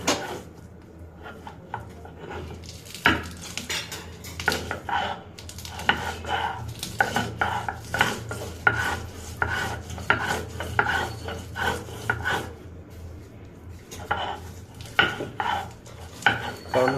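Spices and chili are ground by hand on a grinding stone, giving a steady run of close, scraping and rasping strokes in an uneven rhythm, moderately quiet with no talking.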